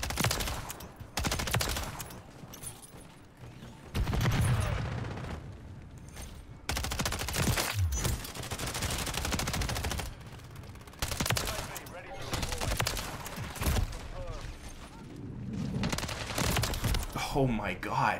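Rapid bursts of MTZ 556 rifle fire from Call of Duty: Modern Warfare III multiplayer crackle loud and close, firing in repeated volleys with short pauses amid other in-game noise.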